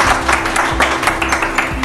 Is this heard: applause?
yes